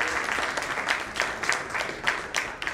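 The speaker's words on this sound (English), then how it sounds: "Can we have a round of applause?" Applause from an audience at a panel discussion during the Mumbai CDC 2022 conference, a steady wash of many hands clapping at moderate level with no talk over it.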